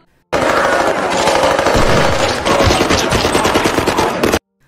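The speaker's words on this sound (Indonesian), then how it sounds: "Gara-gara ada suara tembakan, Meg sama yang lainnya jadi tahu kan posisi" Loud, rapid bursts of automatic gunfire crackle almost continuously for several seconds, dense and close, with a sharp sudden start and stop.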